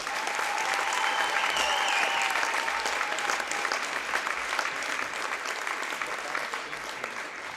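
Crowd in a gym at a girls' high school basketball game gives a sustained round of applause for players, staff, dancers and parents, loud and dense at first, tapering slightly toward the end.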